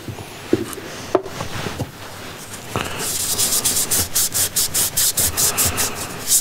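A foam sanding pad of roughly 400 grit rubs a thin food-safe finish onto a wooden bowl, starting with scattered light scuffs and settling into a steady run of close, rhythmic back-and-forth strokes.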